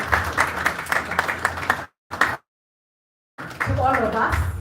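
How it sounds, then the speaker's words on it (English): An audience at an event on Kenya's economic future applauds loudly in a dense burst of clapping that cuts out abruptly, briefly returns, falls silent for about a second, then resumes with voices mixed in. "Let us give a warmer round of applause"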